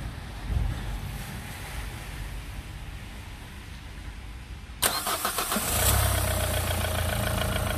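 A Renault Clio 3 engine cranks and catches after an alternator refit, a sudden loud start midway through the clip followed by a steady idle that rises slightly, after several seconds of quiet background hum.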